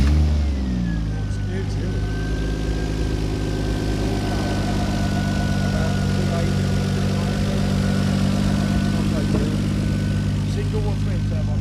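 A 3 litre single turbo engine in a classic retro car idles cold at an outdoor car show, a steady low rumble with a faint whine above it, while people talk nearby.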